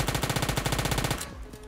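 Automatic weapon fire in the mobile shooter PUBG Mobile rattles off as a rapid, evenly spaced burst of about fifteen loud close shots over roughly a second, then cuts off to quieter in-game background.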